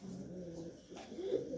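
Pigeons coo in soft, low murmuring notes, close and quiet, with a brief rustle midway.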